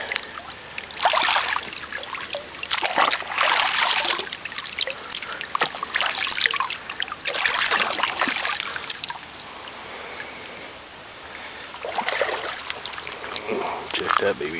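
Water trickles steadily over rocks in a creek, a close, continuous splashing wash that swells and eases, with faint voices now and then.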